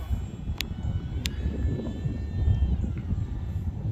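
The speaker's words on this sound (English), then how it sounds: "We can hear the motor nicely, which is helpful" The small electric motor of an AeroScout S 2 RC airplane in flight whines steadily at a distance over wind noise, with a couple of short high-pitched buzzes and a slight pitch change.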